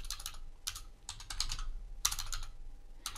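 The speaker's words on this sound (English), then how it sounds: "you just type in here keyword" Keys clatter on a computer keyboard in short bursts of quick taps separated by brief pauses, close and fairly quiet in a calm room.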